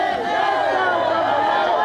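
Large crowd of Buffalo Bills fans cheering and chattering in a dense, loud, continuous roar filling the whole stretch.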